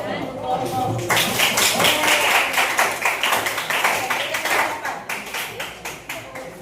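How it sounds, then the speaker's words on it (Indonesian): A group bursts into applause at the end of a presentation, a dense, fairly close clapping that holds steady, then thins into scattered individual claps as it fades. "Tepuk tangan dulu"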